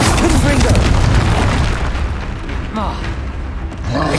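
A Confringo spell explosion in Hogwarts Legacy, a loud booming blast that rumbles and fades, with game effects and a voice over it.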